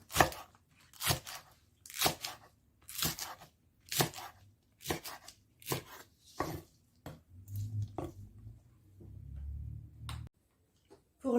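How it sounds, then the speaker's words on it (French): A knife chops scallions into 2–3 cm pieces on a board for pad thai: about a dozen sharp, evenly spaced blade strikes, close and crisp, with a low rumble of background noise near the end and no talking. "Nous allons couper notre cive"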